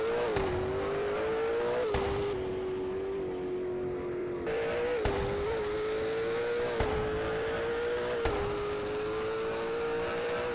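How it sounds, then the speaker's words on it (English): A McLaren GT engine in a Roblox driving game holds a steady, loud tone, with sharp shift-like blips every couple of seconds as the revs drop back and climb again. "I've already tested out all the cars and my favorite sounding is a McLaren GT."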